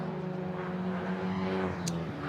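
BMW 330 race car at a Nürburgring 24-hour qualifier race, a steady engine drone with a single short sharp high transient near the end.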